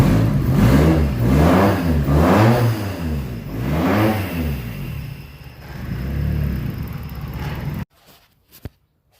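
A car engine starts and revs up and down in repeated rising and falling surges, loud and close, with a rattling downpipe, then cuts off abruptly, leaving near silence with a couple of faint clicks.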